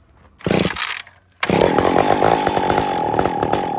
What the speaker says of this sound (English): I've not fired this saw in a while neither